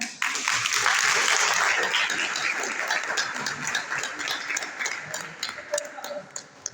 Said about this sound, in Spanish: Damos un aplauso a la catequista